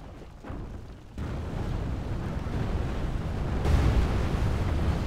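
Siege artillery in a Total War battle pounds a castle wall, a continuous low rumbling roar of impacts and crumbling masonry that swells louder partway through, with no talk over it.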